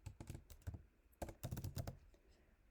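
Code is typed on a computer keyboard in quick, uneven bursts of close key clicks with short pauses between them, quiet and without speech.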